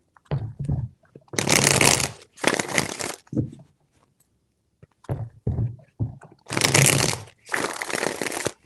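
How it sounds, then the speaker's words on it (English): Cards are shuffled in several quick riffling bursts, close up, with soft taps and pauses between the shuffles. "Three shuffles."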